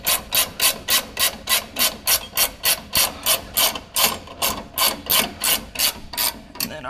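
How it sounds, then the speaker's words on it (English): A ratcheting torque wrench tightens shock skid bolts on a Chevy Colorado ZR2, a fast, even clicking of around three clicks per second, loud and close, running unbroken with no voices. "Since you're supposed to use a torque wrench."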